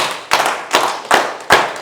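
An audience at a health communication event claps together in unison, giving a handful of sharp, evenly spaced group claps that ring out clearly and loudly with short decays between them.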